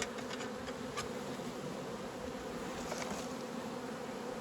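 Honeybees buzz in a dense, continuous swarm drone. It is close and steady throughout, and no voices are heard.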